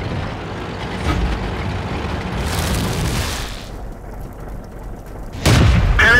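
An enemy tank is destroyed in the World of Tanks game on the El Halouf map, fought from a Cromwell: steady rumbling battle noise and engine drone, then a sudden loud, close explosive blast near the end, with no voices.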